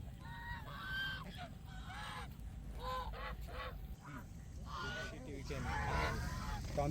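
Loud honking swan calls repeat across Rankala Lake in Kolhapur, several birds overlapping, with constant low background rumble and murmur beneath them.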